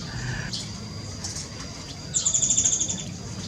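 A grey-headed babbler calls with a quick, high rattling trill of evenly spaced notes, preceded by a few faint chirps, heard alone and near against quiet rustling.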